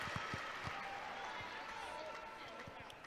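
Volleyball arena crowd at match point in a women's college match, Ohio State at Minnesota's Pavilion, keeps up a steady roar with scattered claps and thumps beneath an announcer's voice.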